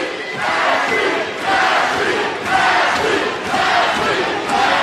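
Arena crowd at a women's MMA cage fight in Miami roaring and chanting in loud rhythmic surges, swelling and dipping in waves, with a faint commentator voice underneath.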